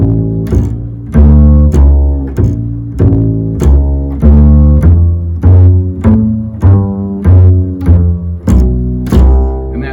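A bass guitar plays a four-bar chromatic line moving down to a dominant seventh, with clear plucked notes in a steady, even rhythm, close and loud, with no voices.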